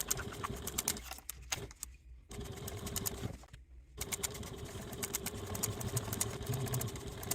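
A sewing machine top stitches a project bag handle, running in fast steady bursts of rhythmic whirring with two short pauses, close and fairly quiet.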